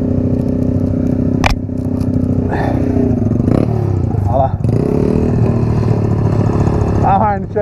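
A Yamaha XTZ 125 motorcycle runs continuously on a dirt trail with a steady engine drone, rising revs, and crackles and scrapes, while people talk over it.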